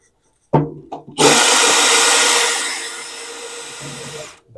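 A power drill on its strongest clutch setting drives a screw into a 1/4"-20 hollow wall anchor for metal, a loud, close whirring run of a few seconds after brief starts, ending abruptly.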